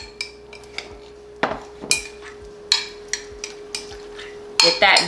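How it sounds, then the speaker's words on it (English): Beans and seasoning stirred in a bowl, heard as a series of sharp close clinks and scrapes of a utensil against the dish, irregularly spaced, with a steady faint hum underneath. "Then I'm going to stir this up."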